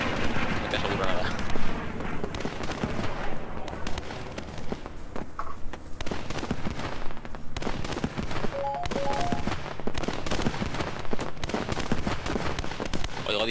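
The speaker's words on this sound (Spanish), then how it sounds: "Oigo disparos y no son amigos" Gunfire in the World War II shooter Post Scriptum, with MG-42 machine-gun bursts in the mix, crackling as sharp repeated shots across a busy battlefield bed with voices talking over it.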